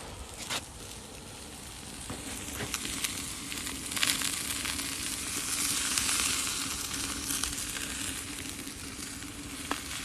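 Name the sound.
food sizzling on a grill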